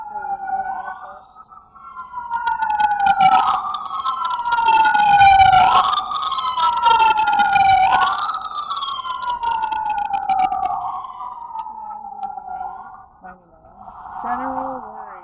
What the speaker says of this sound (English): That's a medical truck for us. It's a medical vehicle.